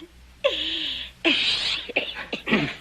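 A sneeze from a character in a Western TV series, a sharp broadband burst followed by a second one, with breathy noisy bursts after, close and fairly loud with no talk over it.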